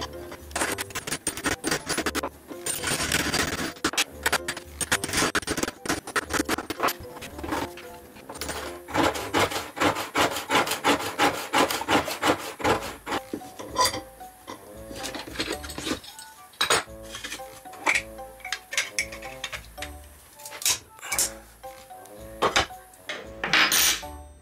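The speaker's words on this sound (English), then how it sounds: "This is to gradually scrape the surface of the steel bar like this." A hard rod scrapes and grinds across the surface of a steel bar in repeated, dense metallic strokes with clinking, loud and close, easing into sparser scratches later on.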